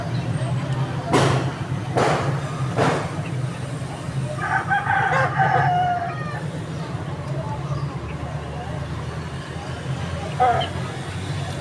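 Quail at a bird market in Pakistan give short chirping calls amid steady market hubbub and nearby thumps, with people talking in the background.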